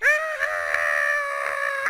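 A voice imitates Phil's scream from the Riddle School game, a sustained, loud, strained high-pitched shriek held steady for nearly two seconds with a slight waver.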